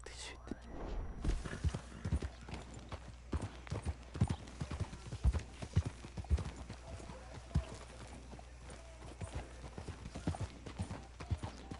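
Horse hooves clip-clop at a steady walking pace in Red Dead Redemption 2, repeated thuds running throughout over a low background bed.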